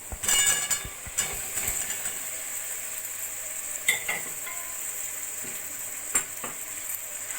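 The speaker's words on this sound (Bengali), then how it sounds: "আলু ভালো করে মশলার সঙ্গে মিশিয়ে নেব।" Boiled potatoes are stirred into a spiced curd mixture in a pan, making soft scraping and sizzling sounds broken by a few sharp clinks of the spoon against the metal.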